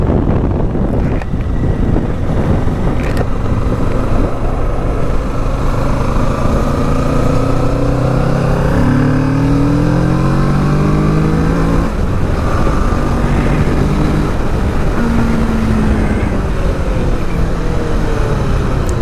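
A 2021 Kawasaki Ninja 650 BS6 motorcycle engine revs repeatedly, its pitch rising and falling in several sweeps under heavy wind buffeting on the microphone, loud and continuous throughout.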